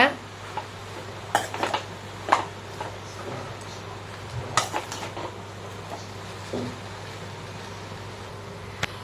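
Utensil clinks and scrapes against a pan as idli upma is stirred and sautéed, a few sharp metallic knocks over a steady low hum, fairly quiet with no talking.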